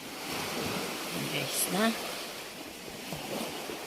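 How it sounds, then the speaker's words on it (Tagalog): Sea waves wash onto the white sand of Patar Beach in Bolinao, Pangasinan, before dawn, a steady broad surf hiss with some wind under a man's brief speech. "Kung naririnig nyo, ayan na yung dagat."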